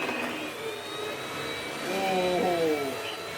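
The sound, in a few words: Vorwerk VK200 vacuum cleaner running in low mode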